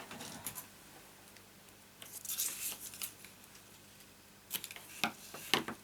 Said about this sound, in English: I'll lift those scissors over there.